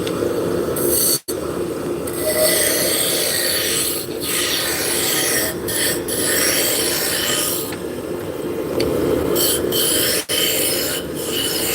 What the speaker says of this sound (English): I'm using a roughing gouge to just basically rough everything in